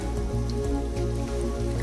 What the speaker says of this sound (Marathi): अजून अर्धा ग्लास पाणी घालूया.